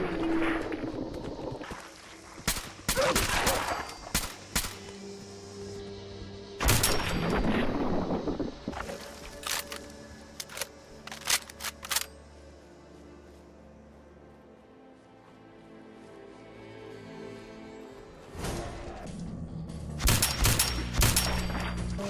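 Repeated gunfire bursts from a Fallout 4 firefight, sharp broadband shots clustered in volleys near the start and again toward the end, with quieter rumbling gaps between.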